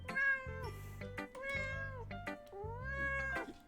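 A cat in the video game Doki Doki Literature Club Plus meows in a run of drawn-out, rising and falling calls, clear and close, backed by a soft, steady synth music bed.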